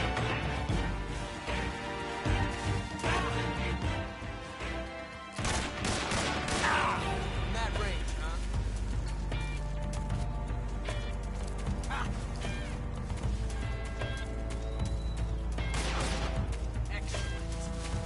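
Gunfire in Metal Gear Solid 3, bursts of shots mixed with barking dogs, music and sporadic speech, fairly loud and dense over a sustained low hum.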